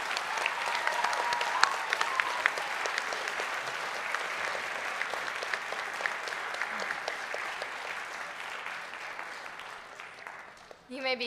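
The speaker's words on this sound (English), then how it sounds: "Please join me in applauding the 2024 Athens Omega chapter of the National Honor Society." Sustained audience applause for 2024 National Honor Society inductees at a school ceremony, dense steady clapping that slowly fades before a voice begins at the end.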